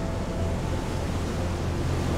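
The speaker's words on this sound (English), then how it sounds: "Sights and sounds of the ocean," Ocean surf at Diani Beach, Kenya, a steady broadband wash of waves and wind, loud and continuous with no distinct breaks, no voices.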